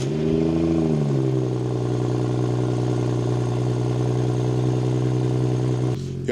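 A BMW F36 engine starts up with a rising rev, then settles into a steady, loud idle drone close by before cutting off abruptly at the end.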